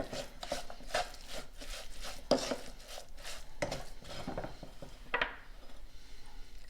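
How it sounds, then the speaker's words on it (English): Raisins are stirred into a poppyseed filling for Slovak nut bread, giving a continuous run of soft scraping and knocking from a spoon working through the thick mixture in a pot, fairly quiet and without speech. "We're going to add our raisins in now, and I'll mix them"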